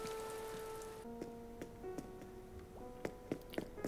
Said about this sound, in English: it's a cold, rainy morning